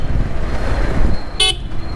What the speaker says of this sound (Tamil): டிராஃபிக் தான் கைஸ்.